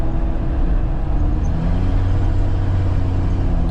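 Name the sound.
loud broken exhaust inside SUV cabin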